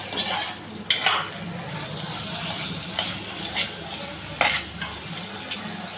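Chopped tomatoes sautéing in a pan for veg kurma, a moderate steady sizzle punctuated by several sharp spoon scrapes and clinks against the pan, close and clear.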